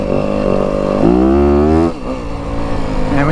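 A Yamaha WR 250F dirt bike engine revs hard under throttle, close and loud, climbing in pitch, dipping briefly, then pulling again.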